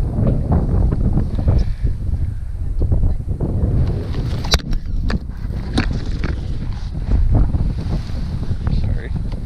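Strong gusting wind buffeting the microphone on an open lake shore in spring, a loud continuous roar with water and wave noise underneath.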